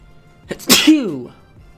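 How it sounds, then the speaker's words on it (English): A single close, loud sneeze with a sharp intake and explosive burst trailing into a voiced tail, alone with no talk. "Looking just like that as I sneeze."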